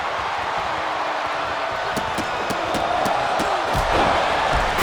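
Steady roar of an arena crowd cheering in the WWE 2K25 wrestling video game, loud and continuous, swelling slightly toward the end with sharp slam and impact hits cutting through.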